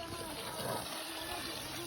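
Steady rushing water flows continuously at a village roadside during a motorbike ride through the hills of Dhading, a broad close wash of sound with no pauses.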